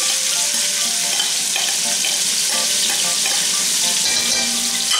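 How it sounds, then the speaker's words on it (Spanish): Onion fries loudly in the chicken juices left in the pan, a dense, continuous crackling sizzle that stays close and steady throughout. "Con ese jugo que nos ha quedado, echamos la cebolla."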